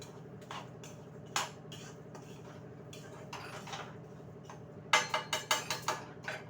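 Peanuts roasting with salt in a pan are stirred, giving steady scraping under a low background hum, then a quick run of sharp, rhythmic metallic knocks near the end.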